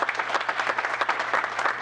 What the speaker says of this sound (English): Can we have a round of applause to our partners from Maricopa County?